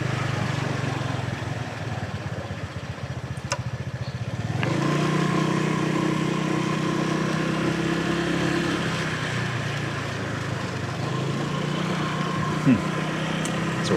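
A motorbike engine drones steadily throughout, rising to a louder, fuller roar partway through as the ride continues.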